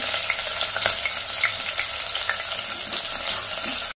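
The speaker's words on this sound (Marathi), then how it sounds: "भाजण्यामध्ये व्यवस्थित भाजून घ्यायचं मसाल्याला" Onion and red chili masala roasting in a hot pan for a fish curry without coconut, a steady close sizzle and crackle with faint stirring scrapes, continuous and loud throughout, with no voices.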